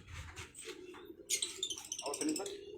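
Pigeons kept by a pigeon fancier give short, chirpy calls and flutters close by. Someone talks over the birds for much of the time.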